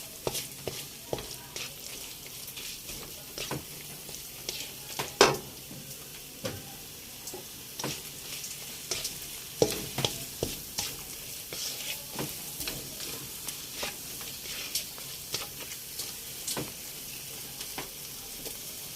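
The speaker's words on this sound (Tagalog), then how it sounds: "sangkutsa lang muna natin." Chicken cubes sautéing in a pan for biryani, a steady sizzle and fry hiss running throughout with repeated stirring scrapes and clicks of a utensil against the pan, close and moderately loud, no talking.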